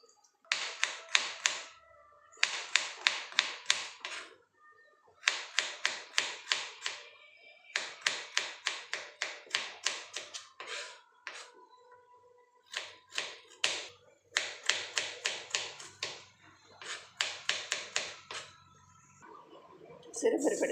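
A knife chops a banana stem into pieces on a board, sharp rhythmic taps in quick bursts with short pauses between them, close and clear, with someone talking in Tamil over parts of it.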